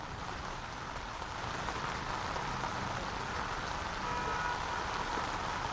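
Heavy rain falling in the city of Jaipur, a loud unbroken wash of hiss and splatter throughout, with a faint rumble of passing traffic underneath.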